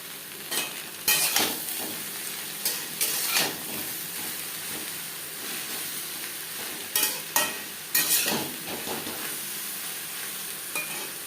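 Chopped ridge gourd with coconut and salt is tossed and stirred in a pan, with bursts of scraping and clattering strokes over a gentle, ongoing sizzle, pausing between rounds of mixing.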